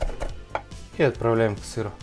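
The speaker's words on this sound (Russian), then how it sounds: "Берем петрушку и мелко измельчаем." A knife chops parsley finely on a board in quick, close taps at the start, then someone briefly speaks over the last few cuts.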